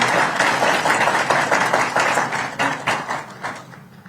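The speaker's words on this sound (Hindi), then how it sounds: "जोरदार तालियों की गड़गड़ाहट के साथ आप स्वागत करिएगा, जोश दिखाइएगा बहुत तेजी से।" Dense, steady applause from an audience at a road safety campaign event, welcoming guests onto the stage, loud and continuous before thinning out near the end.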